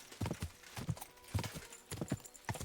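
Horse hooves clip-clop in the video game Kingdom Come: Deliverance II, a steady rhythmic trot of soft, fairly quiet thuds repeating across the moment.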